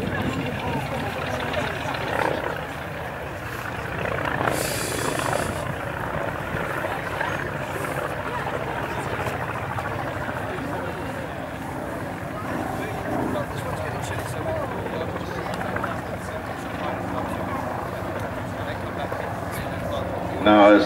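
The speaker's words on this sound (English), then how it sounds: "As these two aircraft come by individually, you can hear the difference in engine note." Vintage propeller aircraft, a Ryan PT-22 and a Comper Swift, drone steadily as they pass by individually at Old Warden, a rough continuous rumble with wind noise and a brief louder swell near the end.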